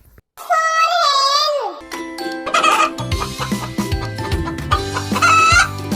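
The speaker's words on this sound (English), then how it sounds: "H for hen." A hen clucks and crows in a loud, close, high-pitched call, followed by a busy stretch of other sounds and a second drawn-out fowl call near the end, with little or no talk.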